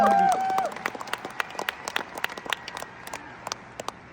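Audience applause at a Delhi success-day testimony event: scattered, uneven clapping that builds after a brief musical tone at the start, with irregular individual claps continuing throughout at moderate volume.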